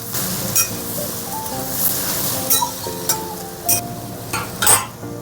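Soaked chickpeas are stirred into a papaya curry in a pan, making a soft simmering sizzle broken by several sharp clinks and scrapes of a utensil against the metal.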